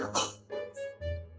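A single short sneeze bursts out near the start, followed by brief soft vocal sounds in a quiet room.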